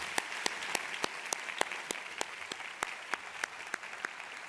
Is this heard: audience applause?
yes